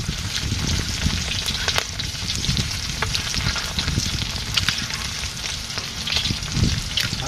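Desi egg curry frying in a pan while being stirred, a steady close sizzle and crackle with scraping stir strokes throughout, no voices.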